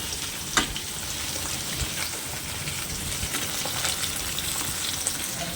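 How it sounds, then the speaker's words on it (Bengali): Fish, with fish roe, sizzles and crackles in hot oil, a steady close frying hiss with occasional sharp pops and spatters. "এই দেখো মাছ ভাজছি।"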